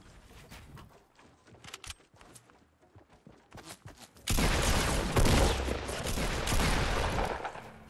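Gunfire during a Fortnite match on PS4, starting as scattered sharp shots and then swelling into a loud, sustained burst of rapid fire for the last few seconds.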